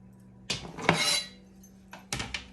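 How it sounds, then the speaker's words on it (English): Chunks of carrot tumble into a soup pot in a couple of separate bursts, clattering against the metal with a bright, close knock and rattle, then a brief quiet before a second drop. "We're just gonna add that into the pot."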